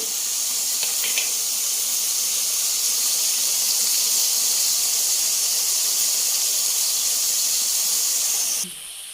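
Mushrooms simmer in soy sauce in a pan with a loud, steady bubbling hiss that carries on almost unchanged, then drops off abruptly near the end.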